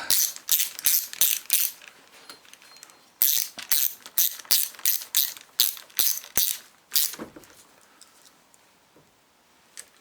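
Ratchet wrench clicking as alternator bolts are tightened on a Land Rover, the alternator taken off a boat; rapid bursts of close, sharp clicks in rhythmic strokes, fading to quieter scattered clicks near the end.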